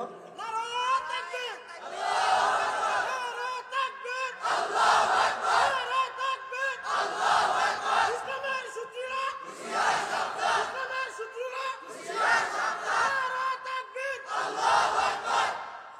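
A large crowd chants the Nara-e-Takbir battle cry in loud, swelling unison, four or five rhythmic shouted waves rising and falling, close and dense with no pauses between calls.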